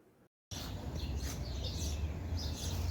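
Birds chirp and call in the open air over a steady low outdoor rumble, their calls scattered and fairly faint.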